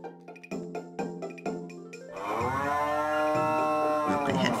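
A cow moos once, long and loud, in the farming video game Harvest Moon: Grand Bazaar, preceded by short chiming game tones and with no talking.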